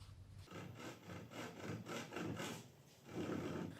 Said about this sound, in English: So I'm starting that here with just a regular rip saw